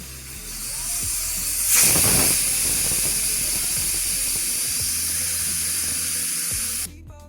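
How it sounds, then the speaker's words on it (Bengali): A pressure cooker whistling while cooking amra and tomato chutney, a loud, sustained hissing jet of steam that starts abruptly and keeps blowing for several seconds before cutting off, with no talk. "এবারে ঢাকা দিয়ে 3টা সিটি তুলে নেব।"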